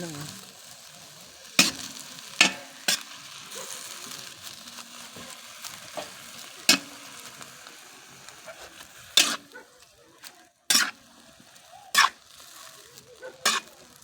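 Watercress sautés in a hot pan with a soft continuous sizzle, broken by sharp, loud clacks of a spatula or spoon against the pan at irregular intervals.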